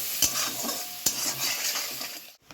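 Spice paste with a splash of water being sautéed in a pan, a steady close sizzle broken by two sharp spatula scrapes and stirring strokes, cutting off abruptly at the end.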